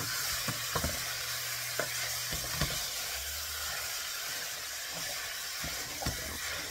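Ground meat for chili browning in a pan with a steady broadband sizzle, punctuated by several soft scraping stirs and clicks of a utensil, no talking.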